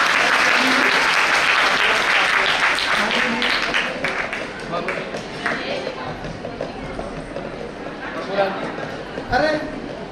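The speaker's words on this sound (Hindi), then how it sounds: "एक बार सबके लिए जोरदार ताली बजा" A crowd at a religious gathering breaks into loud applause that tapers over several seconds, with voices talking beneath the fading clapping.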